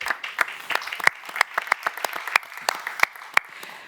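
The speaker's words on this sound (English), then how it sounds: "an applause for our panelists" Scattered applause from an audience honoring panelists at a Blue Peace Middle East water cooperation event, a handful of people clapping unevenly in a room, modest and fairly close, with no talking over it.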